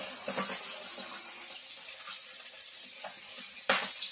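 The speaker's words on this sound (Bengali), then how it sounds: "বোয়াল মাছ নিয়ে যাচ্ছি এক সমানে করতেছে ভুটুস ভুটুস করে করতেছে" Boal fish frying in hot oil, a dense steady bubbling sizzle throughout with a sharper spattering burst near the end, close and with no talk.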